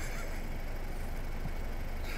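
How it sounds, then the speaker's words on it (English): Chickens riding in the back of a car make a dense, continuous, loud clucking and squawking that fills the whole stretch, with no voices. "Some chickens."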